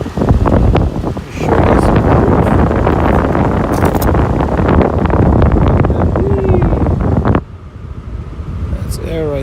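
Rear air conditioning vent on an Acura MDX blowing air after a fix, a steady broadband whoosh close to the microphone that runs nearly the whole time, softening near the end.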